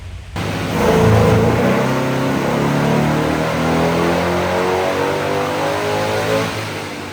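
An LS3 V8 in a Corvette roars on a dyno, climbing fast to a loud sustained wail under full throttle and holding it for several seconds before easing off near the end.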